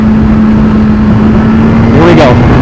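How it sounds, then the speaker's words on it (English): Motorcycle engine revving hard during a clutch-up wheelie, a loud steady drone that climbs in pitch near the end with a sharp surge of revs. "A little chase out wheelie with clutching up."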